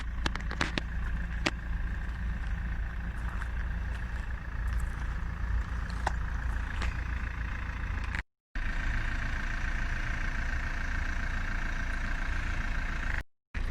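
A 2007 Saab 9-3 with a 1.9 TiD 150 hp diesel engine running steadily, a low continuous rumbling drone at even volume throughout, close by and heard alone without talking.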